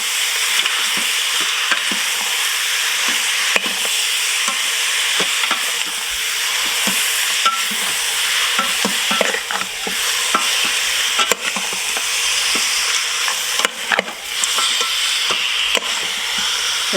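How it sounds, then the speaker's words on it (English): Lamb pilaf being stirred in an Instant Pot: a steady, close scraping and sizzling texture with frequent light clicks of the spoon against the pot, continuing throughout with no talking. "Give it a stir, mix well to combine."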